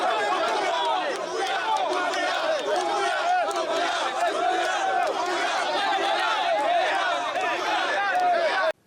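A large crowd of young people at an FNDC rally chants slogans, a dense, loud wall of voices that keeps on steadily and then cuts off abruptly at the end.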